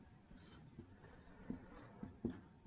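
Pen or pencil writing out a math solution by hand on paper, a soft continuous scratching with a few firmer strokes, close and quiet with no talk.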